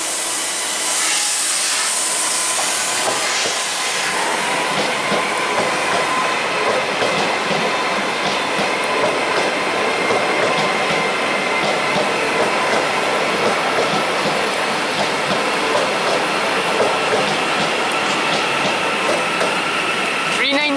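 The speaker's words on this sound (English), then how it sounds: "the Transpennine Express Class 397 to Edinburgh, only stopping at Haymarket on the way before Edinburgh." A TransPennine Express Class 397 electric train bound for Edinburgh passes close by at Carlisle, a loud sustained roar of wheels and rushing air with rhythmic rail clatter lasting throughout.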